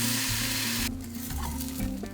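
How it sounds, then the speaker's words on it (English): Pancake mix stirred in a tiny bowl at a coastal van campsite, a soft continuous scraping and swishing that is brighter and busier at first, then settles into a quieter, steady churn. "This is the closest thing we have to a bowl for mixing the pancake mix."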